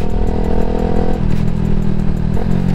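A Suzuki Gixxer SF 250 motorcycle engine runs loud and close with a throaty, rumbling idle that rises and shifts in pitch as the throttle is blipped, mechanical clatter underneath.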